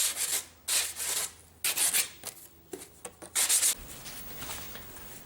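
Rough 60 or 80 grit sandpaper rubs along the edges of a wooden box for a pedal board, in a series of close, loud, uneven scraping strokes with short pauses between them.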